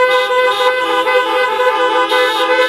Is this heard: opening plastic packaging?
no